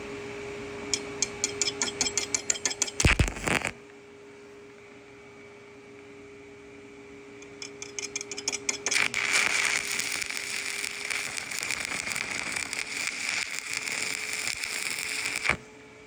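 Stick welding with a 7018 electrode: a crackling buzz for a few seconds, a pause, then a longer steady sputtering arc crackle that stops abruptly near the end.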